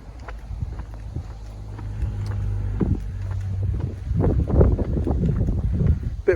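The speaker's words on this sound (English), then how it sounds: "Bit of wind about today," Wind buffets the microphone outdoors on an overcast day on a riverbank by the River Severn at Quatford, a steady low rumble that swells louder and gustier in the second half, with no talking.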